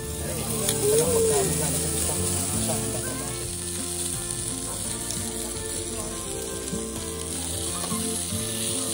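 Sausage sizzles steadily in a hot pan, a constant frying crackle lasting throughout, with voices talking nearby.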